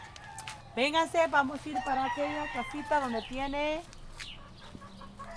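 Hens in a home garden, clucking and calling with a crow-like rising cackle at close range, while someone talks over and between the bird sounds.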